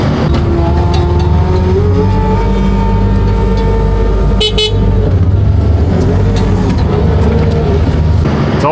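A pickup truck engine rumbles loudly and steadily at close range as the truck creeps forward a short way on a muddy day, its low drone rising slightly, with a brief sharp knock partway through.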